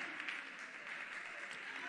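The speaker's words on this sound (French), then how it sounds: "On applaudit pour Joyce." Faint, steady audience applause fills a hall at a gospel singing competition finale as a winner is honoured, a dense wash of clapping that holds evenly throughout.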